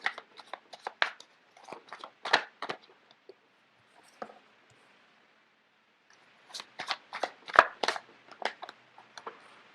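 Tarot cards are shuffled and handled in bursts of crisp riffles and slaps, with a quiet pause in the middle before a second flurry; the sounds are near and clear.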